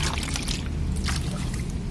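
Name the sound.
watering chili plants with pesticide mixture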